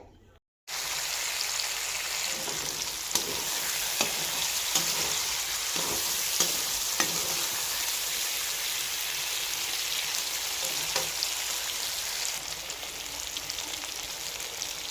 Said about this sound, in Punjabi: ਆਲੂ ਆਪਾਂ ਨੇ ਉਬਾਲ ਕੇ ਰੱਖੇ ਸੀਗੇ ਮਸਾਲਿਆਂ ਦੇ ਵਿੱਚ ਐਡ ਕਰ ਦਵਾਂਗੇ ਤੇ ਚੰਗੀ ਤਰ੍ਹਾਂ ਮਸਾਲਿਆਂ ਨੂੰ ਮਿਕਸ ਕਰ ਲਵਾਂਗੇ